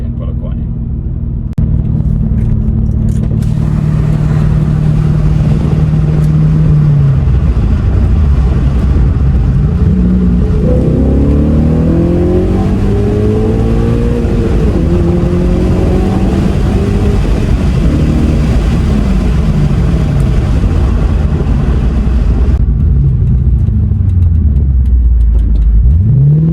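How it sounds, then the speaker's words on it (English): An Audi B7 RS4 V8 on the road builds a loud, continuous engine rumble, revving up through rising sweeps and then easing off, heard from close by with occasional speech over it. "Glorious V8."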